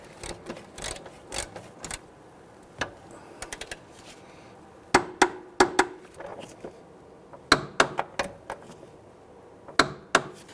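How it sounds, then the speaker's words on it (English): A torque wrench tightens the upper control arm bolts on an Infiniti G37, giving irregular sharp metallic clicks and ratchet taps up close, scattered in short clusters with brief pauses. "We're going to torque the upper control and bolts to 52 foot-pounds."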